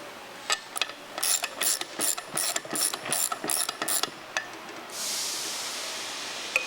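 Ratchet wrench tightening a bolt during an engine lower-end rebuild, a close run of quick clicking ratchet strokes in short bursts, followed by a soft hiss.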